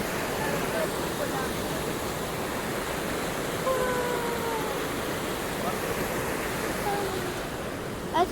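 A waterfall near Suryanelli roars as a constant loud wash of water, with faint whistling bird calls threaded through the steady rush.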